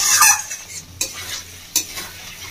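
A spice paste for lentil fritters, cooked down until the oil separates, sizzles in a pan with a close hiss and two sharp scraping knocks of a stirring utensil, no voices.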